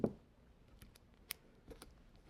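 Scissors cut duct tape into a thin strip, giving a few faint, quick snips spaced over a couple of seconds in a quiet room with no talking.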